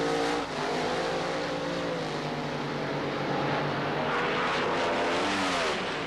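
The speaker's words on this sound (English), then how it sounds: "semifinal Top Fuel racing at the Gatornationals." Top Fuel dragsters at the 1976 NHRA Gatornationals in Gainesville, Florida, semifinal racing: a loud, sustained engine roar with rising and falling pitch sweeps as the cars pass, continuous with no talk.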